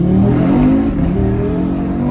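A tuned Audi RS3 8Y accelerates hard, its engine roaring loud and steady from inside the car as the revs climb, with faint voices under the noise.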